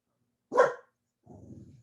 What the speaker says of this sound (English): I have dogs that bark